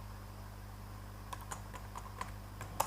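Keys on a computer keyboard are pressed in a sparse, uneven run of about eight soft clicks over a steady low hum, ending with one slightly louder tap.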